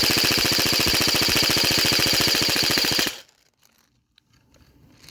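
An airsoft AK insurgent AEG rifle fires a rapid, steady full-auto burst of evenly spaced shots for about three seconds, loud and close, then stops abruptly into near silence.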